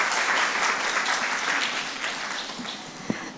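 An audience at a university Faculty of Medicine open house applauds in a steady, dense round of clapping that tapers slightly toward the end.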